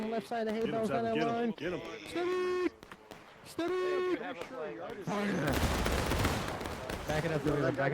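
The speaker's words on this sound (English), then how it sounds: "Nice volley from 7 Michigan there." Musket volley in the House Divided Civil War game, a dense crackling burst of massed rifle fire that follows a stretch of voices speaking over the game audio.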